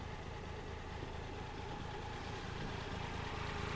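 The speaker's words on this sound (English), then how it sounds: "the engine is running a little bit low in RPMs and a little bit shaky" A 1992 Suzuki Cappuccino Turbo kei car engine idles low and steady at low RPM with a slightly uneven, shaky rumble, heard close up and fairly quiet, with no talking.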